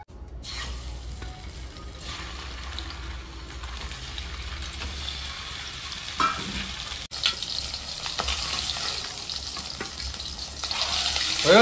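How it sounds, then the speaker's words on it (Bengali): An egg fries in a little oil in a pan, a steady close sizzle that runs throughout and swells louder toward the end, with a few clinks of a utensil and no talk. "একবার দিলে হয়ে যাবে ভাজা।"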